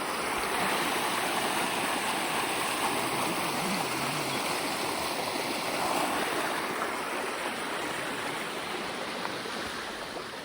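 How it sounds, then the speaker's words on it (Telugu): A water stream flows beside a temple on the Sathuragiri trek route. It makes a continuous, close, even babbling rush at moderate level with no talk over it. "వాటర్ స్ట్రీమ్ పక్కనే ఉంది."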